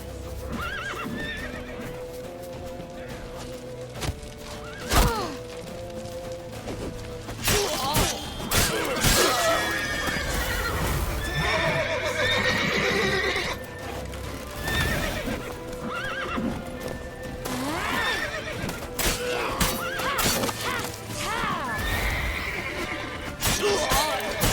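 Horses neigh and whinny repeatedly over rhythmic clip-clop of galloping hooves in the video game The Witcher 3, with crashes and shouting voices mixed into a busy action scene.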